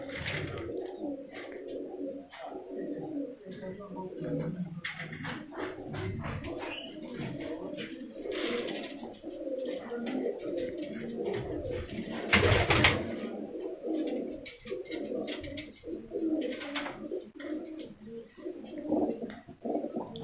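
Racing pigeons coo repeatedly nearby in soft throaty rolling calls, several birds overlapping in a steady flock murmur.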